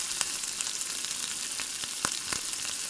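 Chopped onion, garlic, cumin and crushed fenugreek sizzling and frying in hot oil with mustard seeds, a steady close crackle with scattered pops and no voices.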